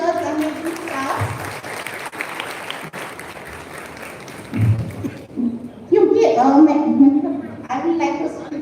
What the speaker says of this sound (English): please clap for these amazing teachers, amazing staff